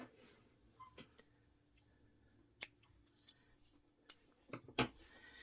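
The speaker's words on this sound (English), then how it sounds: "And then you can go ahead and cut." Scissors snipping crochet yarn, a few short, crisp cuts spaced irregularly against a quiet room, close and faint.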